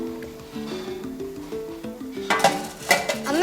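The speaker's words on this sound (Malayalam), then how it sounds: "പാത്രം ഉണ്ടോ കഴുകാൻ?" Dishes and pots being washed, metal vessels clattering and knocking loudly near the end over a background melodic tone, with no voices.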